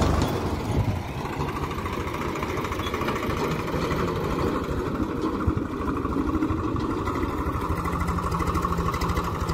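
A tractor with manual, non-power steering runs on a farm, its engine throbbing steadily and fairly close throughout, with no talk over it.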